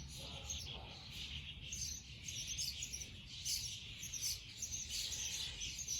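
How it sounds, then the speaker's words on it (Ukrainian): Birds chirp and tweet steadily in the background, fairly dense song over a low rumbling hum, with no talking. "наче і пташечки, і все гарно, але вони так голосно співають"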